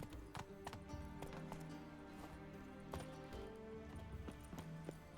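A horse gallops in The Witcher 3, its hooves clip-clopping in a quick, steady rhythm with tack jingling, heard fairly quietly under faint game ambience.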